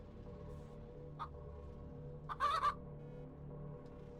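Chicken clucking in the dungeon-crawler game Chicken Dungeon 3D: a brief single cluck, then a quick burst of several clucks, faint over a quiet humming game background with no talk.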